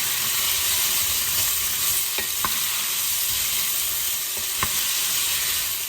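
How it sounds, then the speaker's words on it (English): Four medium-to-large potatoes drop into a pan of softened onions for a chicken casserole, giving a steady hiss and sizzle broken by a few sharp clacks and knocks. "we're going to add however many potatoes you want. I've got 4 medium to large potatoes in there."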